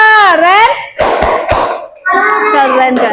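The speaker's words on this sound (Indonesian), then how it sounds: "Kasih tepuk keren untuk kelompok 2." A few sharp claps and taps from third-grade schoolchildren in a classroom sound between stretches of children's voices, short and close.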